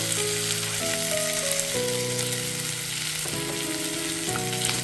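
Fried dal goes into a pan of hot oil for a vegetarian daliya khichdi, giving a loud, continuous sizzle up close with a few stirring scrapes and no voices.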